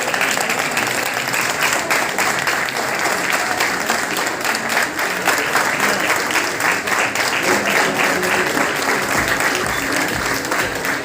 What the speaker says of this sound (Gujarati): એકવાર ઊભા થઈને તાળીઓ પડી જોઈએ એના માટે